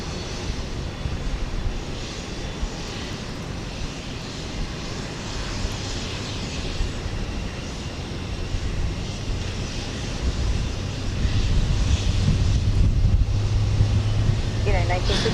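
A heavy United Boeing 787 jet takes off from runway 15 left at Houston Intercontinental, its broad steady engine roar swelling louder toward the end, with radio voices talking over it.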